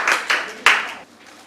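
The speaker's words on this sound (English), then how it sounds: "Let's give them a round of applause." Brief applause from a small crowd at a community science competition prize-giving, with bursts of clapping that swell three times and then fade out, all fairly close and with no talk.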